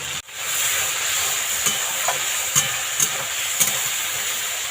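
Chicken pieces fry in hot oil in a home kitchen, giving a steady, loud, close hiss with a few soft pops and clicks scattered through it.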